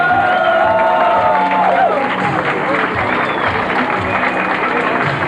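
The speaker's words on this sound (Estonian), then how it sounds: "Me teeme aplausi kõikidele kandidaatidele." Crowd applause and cheering for all the pageant candidates at a 2003 motor show event, loud dense clapping with whoops, an amplified voice speaking over it at the start.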